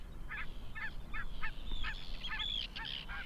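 Barnacle geese honking in Iceland, a rapid series of short, sharp calls repeating in uneven bursts over steady outdoor background noise, with no voices.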